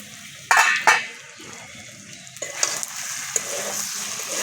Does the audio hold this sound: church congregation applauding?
no